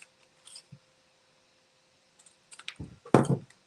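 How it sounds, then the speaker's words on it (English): Big scissors cutting through card during craft work, a few faint snips followed by louder crisp crunching cuts near the end, close in an otherwise quiet room. "Use my big scissors and cut it down."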